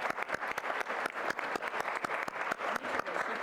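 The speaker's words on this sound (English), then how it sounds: "Let's give her a round of applause." An audience at a Georgia Women of Achievement 2025 event applauds, producing dense, steady clapping throughout, fairly close and sustained.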